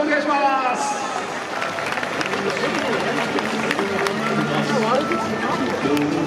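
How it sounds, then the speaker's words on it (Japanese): Stadium crowd at a Yokohama BayStars baseball first-pitch ceremony, with broad applause and cheering blended into loud crowd noise and announcer-style talk that continues over it throughout. "皆さんどうぞ拍手でお願いします。"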